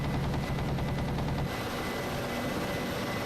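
Ka-50 helicopter cannon firing at infantry in the DCS World flight simulator, a rapid rattling burst over the rotor and engine drone for about a second and a half, then the steady helicopter hum continues alone.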